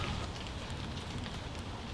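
Rain falling in a forest, a dense, even hiss of drops on leaves and ground, steady and fairly faint with no voices.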